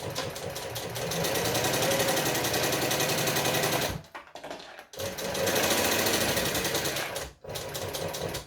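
A sewing machine stitches fabric in two long, loud, steady runs broken by short pauses, with quick reverse passes for back stitching.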